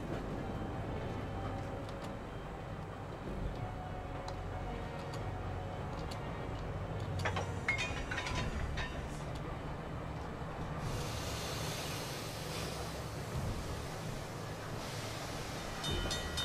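A train rumbles steadily along the tracks in the video game Secret World Legends, with continuous low roar and faint clicking and rattling, loud and close throughout.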